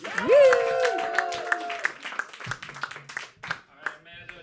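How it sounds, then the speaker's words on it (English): Audience at a New York roast battle comedy show claps and cheers as a comedian is introduced, with a loud whoop rising early and scattered clapping continuing under a host's voice. "start clapping right now for Amanda Giles"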